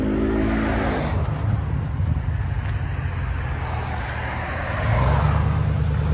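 A Chevy Silverado with a 5.3L V8 and Borla Touring exhaust rumbles close by, then swells louder near the end as it pulls away, with no talking.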